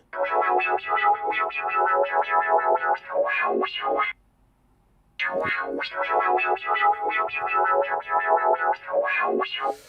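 Beat sample track run through Serato Hex FX, a dense, heavily processed musical loop with a warped, spacey character, playing loudly, cutting out for about a second midway, then resuming with no voices.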